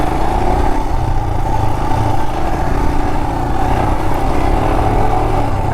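A Royal Enfield Himalayan 411 motorcycle rides off-road, its engine holding a loud, steady, close drone with no change in pitch and no voices throughout.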